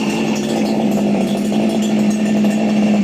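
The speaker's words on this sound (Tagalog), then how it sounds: "CG411 po natin, heavy duty na grass cutter, ito po yan." A CG411 heavy-duty two-stroke grass cutter engine runs steadily at a loud, buzzing idle close to the microphone, with no speech over it.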